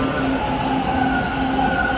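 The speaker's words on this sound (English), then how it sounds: "Okay, there's a train coming here, westbound train." A westbound Toronto subway Line 2 train rumbles steadily into a Danforth station, its wheels squealing in a sustained high whine over the loud, continuous roar of the cars.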